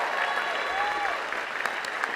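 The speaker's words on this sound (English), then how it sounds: "how about a round of applause for our 2017 graduates from Berkeley City College?" A crowd at the Berkeley City College 2017 graduation ceremony applauds the graduates, a steady wash of clapping with occasional cheers that fills the whole stretch.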